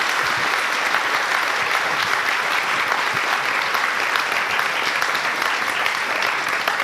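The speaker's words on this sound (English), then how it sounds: "We give one more round of applause for Chris Whitaker and Kate Baer." Audience applause for authors Chris Whitaker and Kate Baer at an evening book event, a dense, steady wash of many hands clapping that holds loud and even throughout.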